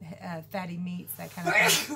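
A short, hissy sneeze near the end, following steady speech about a keto diet, quick and fairly close.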